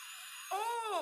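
Dentist's drill whining, a high-pitched tonal squeal that starts abruptly halfway through and wavers in pitch, loud and close with no talk.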